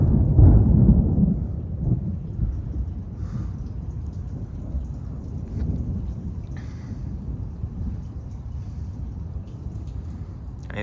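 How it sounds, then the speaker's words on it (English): A thunderstorm over Houston, Texas, with a loud rolling thunder burst at the start fading into a steady hiss of rain and low rumbles that continue throughout. "It seems like an angry storm."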